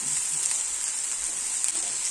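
Steady, bright sizzling of potato pancakes frying in hot oil in a pan, a continuous crackle with small pops, fairly quiet and with no talking.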